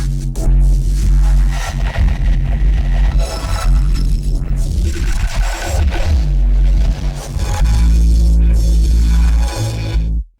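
A song plays through a Neuro bass generator rack as heavy, loud bass with throbbing low end and sweeping, growling filter swells that rise and fall in regular waves before stopping abruptly.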